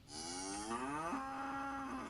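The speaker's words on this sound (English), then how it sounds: "Or maybe a cow." A cow sound effect gives one long, close, loud moo that rises and then holds steady before fading, with nothing else around it.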